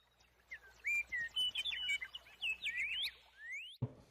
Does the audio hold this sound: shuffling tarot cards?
no